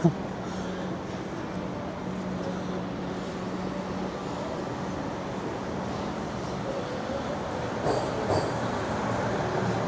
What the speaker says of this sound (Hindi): और ये सबवे स्टेशन है, ट्रेन अंडरग्राउंड आवाज़ आ रही है।